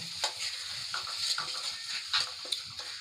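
A spoon stirs a halwa mixture in a hot pan, producing soft scraping and gentle sizzling with repeated stirring strokes at a steady rhythm, close and fairly quiet, with no talk.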